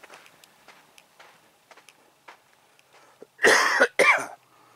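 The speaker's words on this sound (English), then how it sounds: "I still have to get rid of that annoying cough I have though." Two loud, harsh coughs close to the mic, one right after the other, following faint ticking and small background noises.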